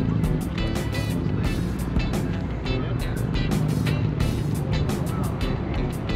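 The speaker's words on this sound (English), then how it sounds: "A lot of people are just like driving their cars around, which is kind of cool. You can hear them." Cars cruising around a Cars & Coffee meet in Novato, California, give a steady, dense wash of engine and road noise, with passing vehicles rising and fading over crowd chatter.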